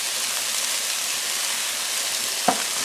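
Vegetables for cheese steak sliders sauté in a pan, seasoned with salt and pepper, giving a steady, even sizzle that runs unbroken with one brief clink near the end.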